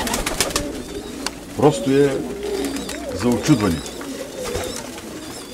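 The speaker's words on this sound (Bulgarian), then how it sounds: "той е шуменския гълъб." A Shumen pigeon cooing nearby in a loft, a few rolling, throaty coos in short phrases, with someone talking over them.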